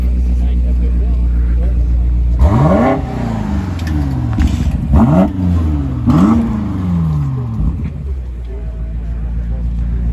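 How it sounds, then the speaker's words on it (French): A Porsche GT3 RS pulls up on a Paris street, its engine revving in several rising bursts that climb and drop in quick succession, loud and close, with voices talking over it. "Porsche GT3 RS qui vient d'arriver."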